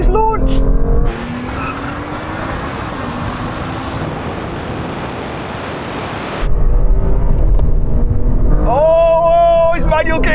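A BMW M2 CS and a new M2 launch side by side in a drag race, with loud engines roaring, tyres squealing and a long rushing pass, while voices talk over it.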